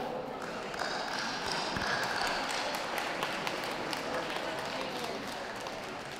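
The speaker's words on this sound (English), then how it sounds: "Give him a clap." A crowd at a gundog show claps for a German wire-haired pointer, producing a steady, moderately loud wash of applause that fills the hall without a break.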